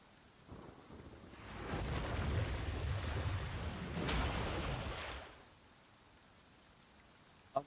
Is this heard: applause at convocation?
no